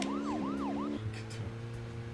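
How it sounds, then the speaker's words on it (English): A vehicle siren in the video game Deadly Premonition wails loudly and up close, rising and falling in quick sweeps before settling into a steadier tone over engine hum. "I hate that it has to do the siren,"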